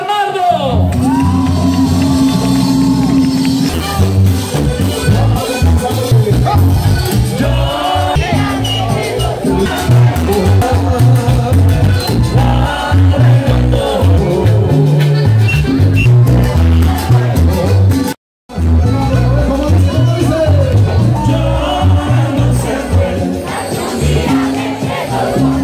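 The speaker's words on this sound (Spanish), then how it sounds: "Le van a regalar un aplauso y una bulla bien fuerte a toda la gente de San Bernardo" A large concert crowd in San Bernardo, Nariño, shouts and cheers loudly and continuously over a band, with whoops rising from the mass of voices and one brief drop to near silence partway through.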